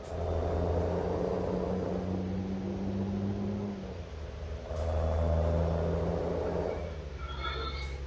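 Truck engine in Euro Truck Simulator 2 on a Brazil map, a steady low rumble with harmonic drone that rises in pitch as it accelerates, dips briefly, then climbs again, loud and close with no talk.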